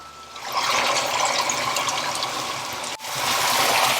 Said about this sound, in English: We're going to add half a mug of water.